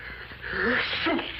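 A single short sneeze, close by, with a breathy buildup and a sharp burst, heard on its own.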